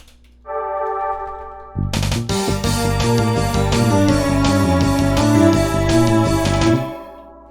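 A sustained synth pad opens, then bright piano-like chords and layered synth tones enter with echoing repeats, building into a full electronic passage before cutting off.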